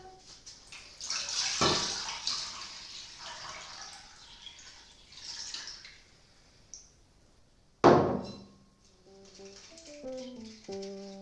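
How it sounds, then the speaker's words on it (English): Water pours briefly into a saucepan with a splashing, filling sound, then a second short, louder gush follows, with faint clinks afterward. "And to that you want to add a litre of water."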